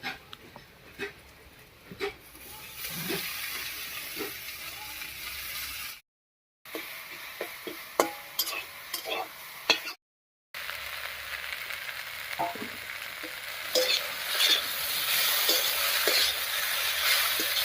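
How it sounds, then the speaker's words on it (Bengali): Chopped onion and green chili frying in oil in a village kitchen pan as sweet potato greens are added, a steady close sizzle with stirring scrapes throughout, broken by two brief silent gaps. "পেঁয়াজ আর লঙ্কাটা লাল লাল করে ভাজা হয়ে গেছে এবারে শাকটা দেবো"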